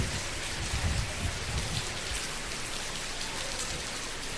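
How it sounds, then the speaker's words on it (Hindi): Heavy rain pouring steadily, a dense continuous hiss and patter of drops on surfaces, loud and close with no voices. "अदिति आज चूँकि मौसम भी बहुत सुकुमार है और चूँकि बारिश भी बहुत ज़बरदस्त हो रही है"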